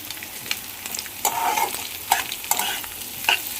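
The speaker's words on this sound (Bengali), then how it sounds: "ডিমটা একটু ভাজা ভাজা হোক।" An egg frying in a pan with Maggi noodles, soft sizzling broken by repeated scraping stirs and clinks of a utensil at close range.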